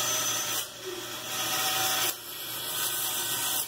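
A bandsaw cuts through the metal bottom of a kid-sized rake, giving a loud, steady, hissing whine with two short dips as the blade passes through, close with no talk.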